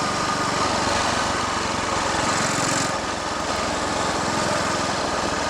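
A Royal Enfield Bullet 500 single-cylinder motorcycle with a Watsonian sidecar runs on the road with a raised carburettor needle and baffled exhaust, a loud continuous engine drone with steady rapid thumping that stays close and constant throughout.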